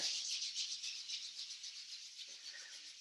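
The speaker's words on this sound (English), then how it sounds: "And let's rub our hands together." Hands rubbing together during a qigong class, a steady, close, dry hiss that pulses softly with each stroke for a few seconds, heard alone.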